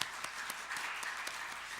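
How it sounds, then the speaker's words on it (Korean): A church congregation applauds to welcome new family members during a Sunday afternoon service, a faint, steady wash of many hands clapping heard from some distance, with no speech over it. "우리 박수로 우리 격려 좀 해주세요"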